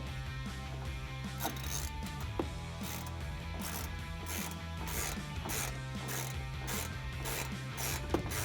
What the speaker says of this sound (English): Grab your Phillips and tighten it down.